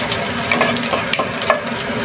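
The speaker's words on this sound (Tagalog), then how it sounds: "Maglagay na tayo ng oil guys. Lagay na po natin ang bawang." Chopped garlic frying in oil in a pan, a steady close sizzle with light stirring clicks scattered through, no talking.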